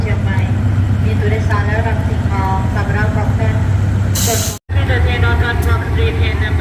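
Diesel locomotive DEA 4551 hauls an express train through Bang Sue Junction station, a loud, steady engine drone and rumble with a short high hiss near the end. A voice carries over the engine throughout.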